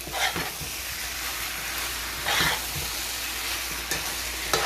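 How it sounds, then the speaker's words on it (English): Bechamel sauce being stirred into a codfish and cream dish in a pan, a loud continuous sizzle with a few scraping strokes of the spoon, close up and without voices. "Mix it all together."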